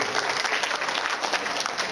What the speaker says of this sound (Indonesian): Tepuk tangan untuk Pak Ibrahim Zainuddin.